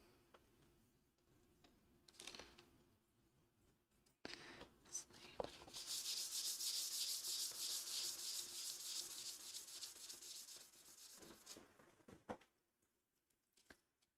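A giant sword blade is sanded by hand in a hobby workshop, a soft, steady scratchy rubbing that builds for several seconds after a few quiet taps and scrapes, fairly faint and close.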